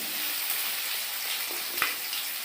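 Potato and eggplant fry together in a pan with a steady, bright sizzle that holds evenly throughout, broken by a brief utensil tap near the end; no one speaks.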